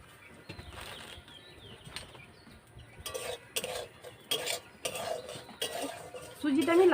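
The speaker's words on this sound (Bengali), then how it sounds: "প্রথমে আমি সুজিটা শুকনো কড়াই ভেজে নেব" A spatula scrapes and stirs semolina dry-roasting in a kadai, starting with quiet, sparse scrapes and then settling into a series of close, distinct stirring strokes every half second or so.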